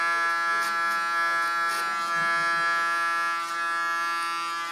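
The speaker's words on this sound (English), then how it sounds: "Using my clipper as a comb again, hold it in an angle" Electric hair clipper held at an angle like a comb while cutting short hair, a steady high buzzing hum running continuously and close, with slight bursts as the blades pass through the hair.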